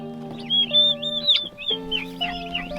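Turkeys revived after a storm cluck and chirp in quick, high calls over a steady electrical hum, close and moderately loud.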